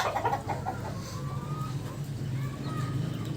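A rooster, lately recovering from a cold, clucks in short soft bursts with faint bird calls behind it, under a low steady hum, without talk.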